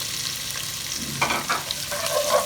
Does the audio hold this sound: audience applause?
no